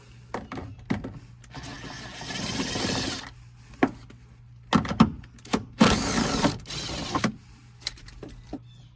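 A ratchet loosens 10mm bolts from a car door panel, producing bursts of rapid clicking and rattling metal with short pauses between turns, close by.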